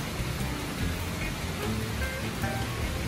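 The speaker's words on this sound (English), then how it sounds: "And behold, it is raining" Rain falling outside an apartment, a constant broadband wash of close, fairly loud rainfall with no distinct drops and no speech.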